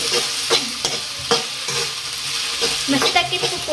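Okra is stirred in a hot frying pan, with a steady sizzle and repeated sharp scrapes of the spatula against the metal at an uneven rhythm, close and fairly loud with no talking.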